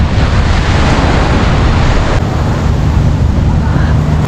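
Ocean waves wash onto a beach at high tide in a loud, continuous roar, mixed with heavy wind buffeting the microphone throughout.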